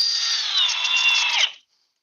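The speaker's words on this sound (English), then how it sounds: "Let's see if there's a big difference in the drill." A Milwaukee cordless drill drives a screw in one steady high whirring burst lasting about a second and a half, winding down abruptly into silence, close and loud.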